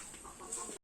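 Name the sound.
chicken clucking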